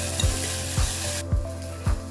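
Chicken curry ingredients fry steadily in hot oil until golden, with a constant close sizzle broken by four evenly spaced stirring scrapes, and no voices.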